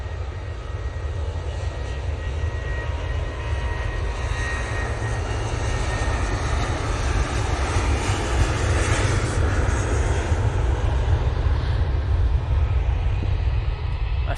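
A Boeing 737 in .com livery rolls for takeoff, a loud, dense low roar of jet engines sustained for the whole stretch, with a rough broadband hiss building slightly toward the middle.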